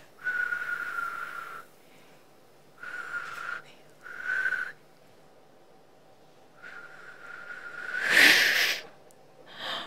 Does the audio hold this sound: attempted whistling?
yes